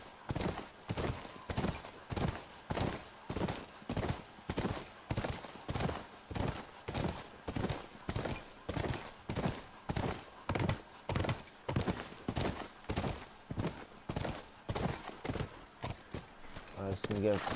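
Horse hooves clip-clop in a steady, even rhythm for the whole stretch, close and prominent, with a faint background murmur, in the video game The Last of Us Remastered.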